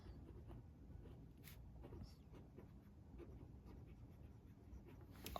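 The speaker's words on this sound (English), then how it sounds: "The nib makes a sound when I write" An extra fine fountain pen nib scratches faintly across paper, writing in Diamine Oxblood ink as a quiet, continuous rasp of small strokes with no talking.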